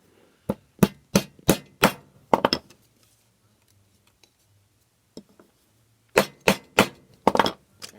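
A hammer taps repeatedly along the edge of a tin art piece, folding it into a lip: a quick run of sharp metallic strikes, a pause, one lone tap, then another rapid burst close by.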